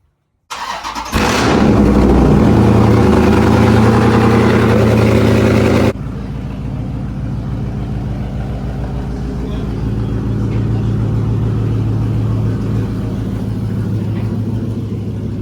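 SRT Jeep with catless mid pipes starting up and revving, a sharp crank then a loud, raspy roaring rev held for several seconds before dropping to a deep, rumbling idle that swells slightly, close by.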